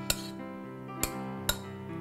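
A utensil knocks against a bowl while quinoa salad with parsley, tomatoes and garlic is stirred, three faint, separate clinks spaced about half a second to a second apart over quiet background.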